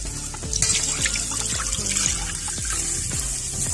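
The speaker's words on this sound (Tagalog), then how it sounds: "So ilalagay natin yung 2 basong tubig" Two glasses of water poured into a marinade of garlic and salt, a steady close trickle and splash running continuously with faint background rattles.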